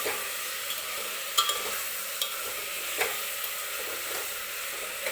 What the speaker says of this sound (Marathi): हे बघा व्यवस्थित हळद सगळ्या मटणाला लागेपर्यंत आपण व्यवस्थित असं परतून घ्यायचं